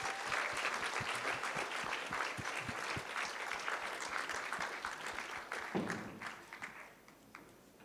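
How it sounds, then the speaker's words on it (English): Audience applause at a regional conference, many hands clapping in a thick, even patter that carries on for several seconds before slowly thinning and fading. "one more random applause"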